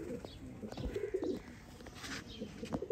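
Sialkoti pigeons cooing softly, a few low throaty coos with faint chirps against quiet background noise, fairly close but not loud.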